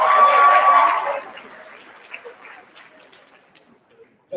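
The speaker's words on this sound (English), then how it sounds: "Give them one more round of applause" Audience applause from a live stage event with kids, a broad wash of clapping that fades out after about a second, followed by quieter room noise and scattered small sounds.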